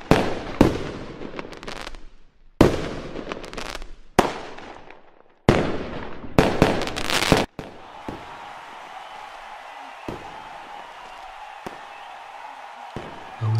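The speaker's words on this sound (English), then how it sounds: "I wish you could see these fireworks" Fireworks explode in a run of sharp, loud bursts, several close together, before giving way to a steady, fainter crackling wash broken by a few more distant pops.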